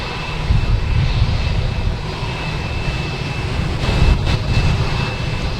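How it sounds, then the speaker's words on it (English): A Gulfstream business jet taking off at Boston Logan Airport, a loud, continuous engine roar with a steady high whine, heard from outside at the airfield with no talk. "That's a Gulfstream taking off."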